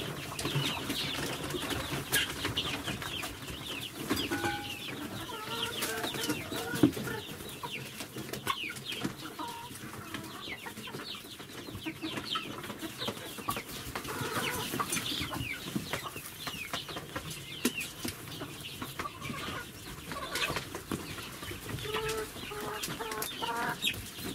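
Chickens clucking around an old henhouse, a steady flock murmur of soft clucks and occasional louder squawks and wing flutters, continuous throughout.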